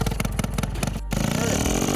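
A smoking Adly motorcycle engine that has just been brought back to running throbs in quick, uneven pulses, then settles into a steady, loud idle close by.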